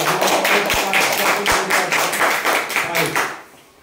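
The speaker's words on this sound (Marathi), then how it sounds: "जोरदार तुम्ही एकदा टाळ्या वाजवा" Audience clapping and applause at a village school quiz contest between fifth and sixth graders: a steady burst of many hands clapping together, dense and lively for a few seconds before tapering off, with voices mixed in.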